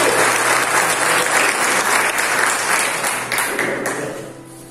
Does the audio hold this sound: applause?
yes